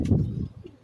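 Rampuri pigeons on a Karachi rooftop give a short, low, throaty coo, close and fairly loud, fading out within a second with no talk over it.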